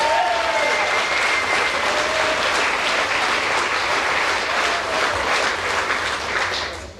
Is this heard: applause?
yes